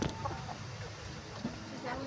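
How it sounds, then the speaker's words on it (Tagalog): Chickens cluck softly and intermittently against a steady backdrop of low rumbling noise. "ito ang ating mga manok"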